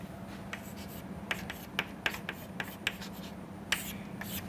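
Someone writes an equation by hand, giving faint, close scratches and taps of pen strokes. They come in short irregular bursts over a low steady hum.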